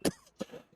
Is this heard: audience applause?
no